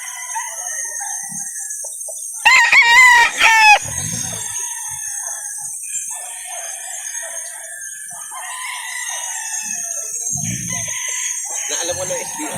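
Roosters at a gamefowl sale crow loudly in a single close burst, with other crows and clucks farther off behind it and people talking around them.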